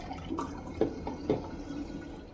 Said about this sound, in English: So just going to do a quick rinse before we can get down to the next pass.